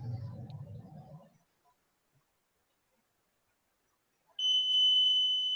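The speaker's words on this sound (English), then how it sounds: "a dual range AC voltage detector" A dual range AC voltage detector gives a steady, shrill, continuous beep when held near a finger. Brief talk comes first, then a pause of silence before the tone starts.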